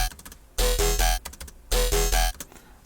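A synthesizer patch built on a retro speaking wavetable plays two bursts of dense, buzzy chords with a heavy low end, separated by quieter choppy stepped gaps, loud and close with no voices.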